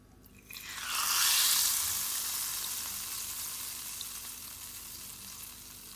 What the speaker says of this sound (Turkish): Bir süre bu şekilde bekleyeceğim. Hafif bir nanemiz yansın diye.